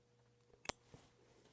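Scissors cutting out the center of a vinyl piece, a single crisp snip followed by a fainter second click, close and quiet with no talking.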